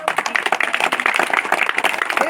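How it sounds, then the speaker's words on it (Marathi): Audience clapping at a rural medical diagnosis camp in Dongartamashi, Gadchiroli district, a dense steady patter of many hands held for about two seconds with some talk mixed in. "जोरदार टाळ्या होऊ यांच्यासाठी"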